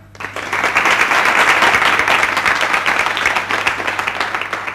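Guests at a formal gathering break into applause, a loud, dense wave of clapping that starts quickly, holds strong for several seconds and eases slightly toward the end, with a faint steady hum underneath.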